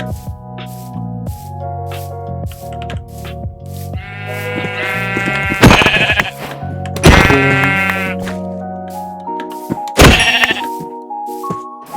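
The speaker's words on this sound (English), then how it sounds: "Oh sheep, I'll get that so I can get a bed." Sheep in Minecraft bleat several times, loud and close, over game music with sustained tones and a steady beat, each cry a strong wavering burst rising above the melody.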